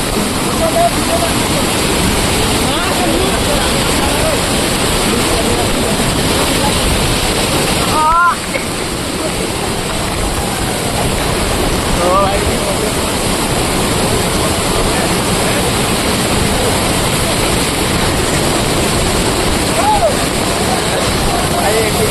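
A loud, constant roar of rushing, falling water at Amboli Falls dominates throughout, with brief voices faintly audible beneath it.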